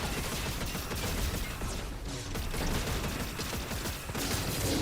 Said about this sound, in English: it took way too long to get those gunshots off